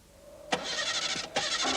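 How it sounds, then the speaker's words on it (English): A car engine labours to start, with a sharp onset of grinding starter cranking that cuts out briefly and then resumes, close and moderately loud. "Some cars often have trouble getting started"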